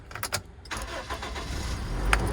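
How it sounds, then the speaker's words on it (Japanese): A camper van engine, fitted with an upgraded 150 A alternator, cranks and catches, then settles into a loud, steady rumbling idle close by, with no talk. "エンジンかけます。"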